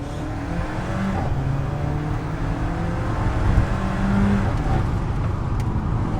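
Alfa Romeo 4C engine heard from inside while driving on a country road, a steady loud drone with road rumble and slight rises in revs, no talk.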